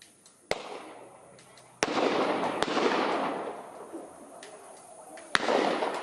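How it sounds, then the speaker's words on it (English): Sharp cracks of distant gunfire near Parliament as demonstrators storm it, four or five separate shots spaced irregularly over a steady wash of crowd and street noise. "As we hear more gunfire."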